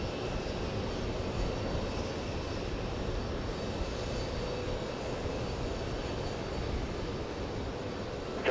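A JetBlue airliner bound for Orlando takes off from runway 13 right at JFK, giving a steady broad jet roar at moderate distance that stays even for the whole stretch.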